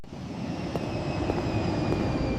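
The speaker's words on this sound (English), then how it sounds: "Jet engines need oxygen." Steady aircraft engine roar, a continuous broadband rumble with faint high whine, holding at a constant loudness throughout with no voices.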